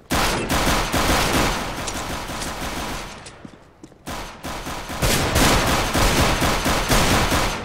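Rapid bursts of gunfire from a Desert Eagle pistol and other weapons during a CS:GO co-op match on Dust 2, loud and dense, with a brief lull before the shooting resumes.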